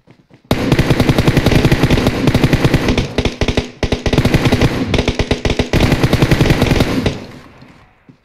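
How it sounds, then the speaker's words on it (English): Sustained automatic gunfire in PUBG Mobile rattles in rapid, loud bursts for several seconds, broken by a few short pauses before trailing off. "I'm getting shot from somewhere"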